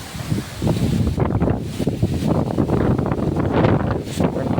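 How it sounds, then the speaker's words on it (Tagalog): Strong wind near Karakawa Falls, Nasugbu, buffets the microphone in loud, continuous gusts, a rough low roar that swells and rumbles throughout with no voices. "Sobrang hangin dito, grabe."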